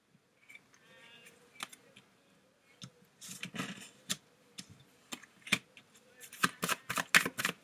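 Tarot cards being shuffled and drawn up close, with soft riffles and sharp flicking snaps that grow denser toward the end, after a brief murmur.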